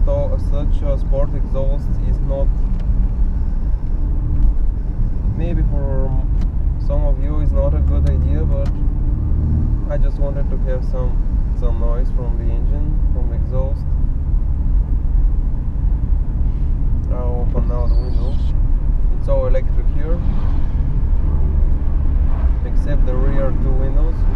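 A worn 1991 Mercedes 124 200CE in less-than-perfect condition drives through city streets, its steady low engine and road rumble running throughout beneath nearly continuous close talking.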